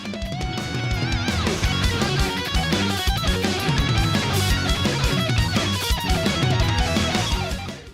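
Electric guitar solo weaving fast patterns over arpeggios against a full band mix with drums and bass, loud and dense throughout with no talking.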